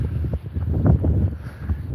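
Gusty wind buffets the microphone in low, rumbling bursts on a wet winter day in Withernsea, with no voices present.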